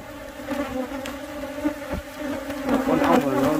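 Honeybees drone steadily around their hives, a dense close buzz that thickens and grows louder toward the end.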